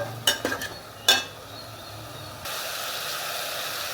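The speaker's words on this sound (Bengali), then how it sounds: "এইভাবে আমি কষাবো, ভালো করে কষে নেব।" Potato, eggplant and drumstick stem curry being sautéed in a pan: a few sharp spoon clinks and scrapes, then a steady soft sizzle that swells slightly, close and moderate.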